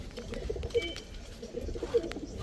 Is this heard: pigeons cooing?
yes